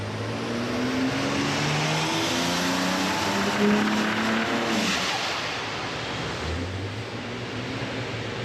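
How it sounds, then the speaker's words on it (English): A BMW E90 with an N54 engine runs hard on a dyno with a cooling fan blowing, producing a loud, steady engine roar with shifting tones and a rough stumble midway. "Misfire. Interesting. Don't know why it's misfiring."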